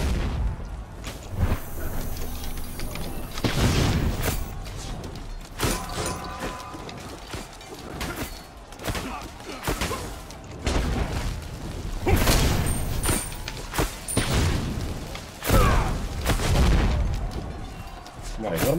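Agni's meteors slam down in a Smite 1v1 match as repeated loud booming impacts, mixed with clanking game effects and a commentator talking over the action.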